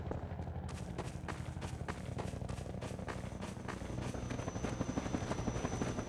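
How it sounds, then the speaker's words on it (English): The Combine attack helicopter in Half-Life 2 thuds overhead with steady, rapid rotor chopping and a droning engine, loud and continuous, with a thin high whine rising toward the end. "Combine attack helicopter."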